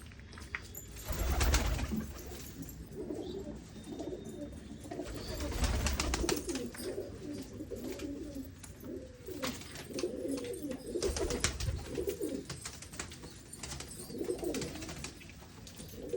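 Pigeons coo in a loft, faint repeated low burbling calls scattered throughout, with occasional louder thumps and bursts of movement rising and falling across the stretch.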